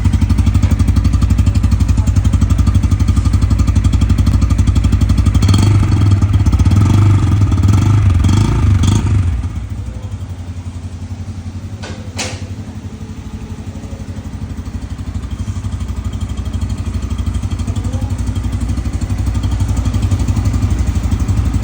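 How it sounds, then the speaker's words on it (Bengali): A Bajaj Pulsar N160 motorcycle engine, started for the first time, runs loudly and continuously, revving and clattering at first, then settling to a lower idle before building up again. "তো প্রথমবারের মতো আমার বাইকটি স্টার্ট দেওয়া হয় এখন।"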